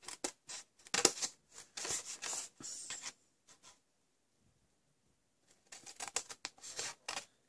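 Scissors cut designer series paper for a napkin-topped box, a close, quiet run of crisp snips in quick bursts, then a pause of near silence before another flurry of cutting.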